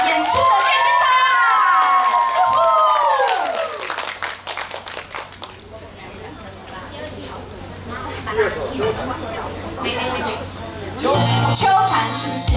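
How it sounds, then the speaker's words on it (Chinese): At a community fair opening ceremony in Taoyuan, an audience screams, cheers and claps for a stage performance, loud high shouts for the first few seconds giving way to scattered clapping and crowd noise, with amplified talk running throughout. "掌声越大，尖叫声越大，演出的越精彩啊！"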